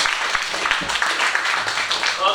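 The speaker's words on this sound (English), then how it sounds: "Please give a clap to him." A crowd at a mushroom farm gathering gives a burst of applause, many hands clapping close and fairly loud for a couple of seconds, with a voice heard over it.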